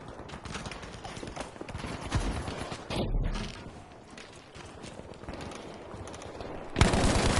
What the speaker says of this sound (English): Enemy machine gunner!